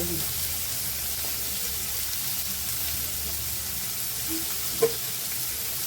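One clove of garlic frying in oil in a home kitchen: a continuous hissing sizzle at steady level with one brief clink near the end, no talking.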